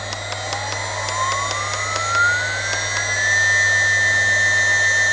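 A 2.2 kW Chinese 24000 rpm spindle motor on a Z-axis plate spins up, its loud electric whine climbing steadily in pitch before holding at a constant tone over a low steady hum.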